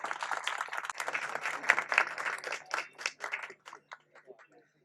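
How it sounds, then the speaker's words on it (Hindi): Applause at a New Year celebration held by a CPWD SC/ST association, a burst of clapping from a modest crowd that thins into scattered individual claps and dies away. "जोरदार तालियां"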